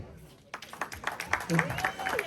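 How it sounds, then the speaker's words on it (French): At a joint 60th and 50th birthday party, guests break into applause that starts after a brief lull and builds into a dense patter, mixed with voices and some tonal sound over the top. "Mesdames et messieurs, vos applaudissements s'il vous plaît"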